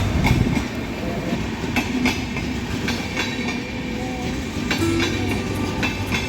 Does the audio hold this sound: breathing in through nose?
no